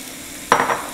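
Shrimp dropped into a hot pan for a Baja-style dish, a short quiet lead-in and then a sudden close burst of sizzling that fades slightly.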